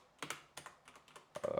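Several quick clicking keystrokes on a computer keyboard while a note is typed into a Google Doc, in small spaced clusters and fairly close, with no talking.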